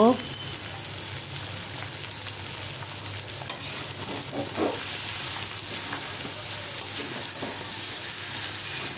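Beef tripe frying in bubbling oil in a pan, a steady close sizzle with occasional stirring scrapes and soft spattering, continuous and without talking.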